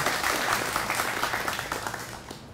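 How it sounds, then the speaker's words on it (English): Applause from a crowd at a fire department dedication, honoring the fire chief: dense steady clapping held at an even level throughout, moderately close. "Let's have a special round of applause for your fire chief."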